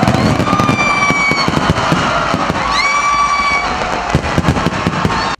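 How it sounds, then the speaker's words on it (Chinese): A New Year's Eve fireworks show beside a Ferris wheel in Kaohsiung, with loud dense crackling and rapid pops, whistling rockets rising, and a crowd faintly audible beneath the bursts. "因为跨年烟火秀将要登场了。"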